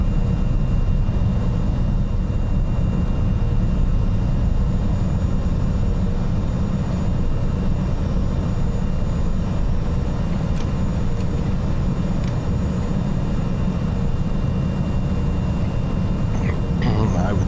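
Steady low engine drone of an aircraft taxiing in Microsoft Flight Simulator, a continuous rumbling hum with no breaks and no talk over it.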